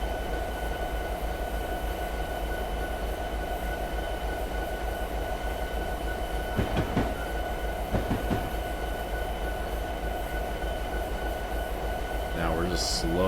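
A long diesel-hauled coal train slowly brakes to a stop in Train Sim 2020, a continuous low rumble and steady tonal hum with a few rhythmic wheel clunks and a brief high squeal near the end.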